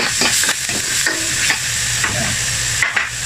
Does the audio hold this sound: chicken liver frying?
yes